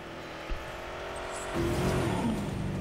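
Ranger jeep from Jurassic World Evolution driving over bumpy terrain, a steady engine drone that grows louder and revs higher halfway through, with a brief knock early on.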